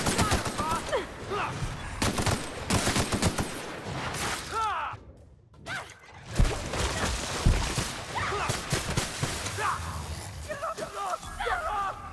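AK rifle fire in The Outer Worlds video game, rapid repeated gunshots in dense bursts broken by a brief quiet gap, with voices speaking among the shooting.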